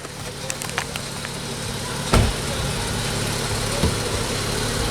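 A 2018 Dodge Challenger SRT idles with a steady, low rumbling engine drone, close and continuous, with a sharp knock or clunk partway through and no speech.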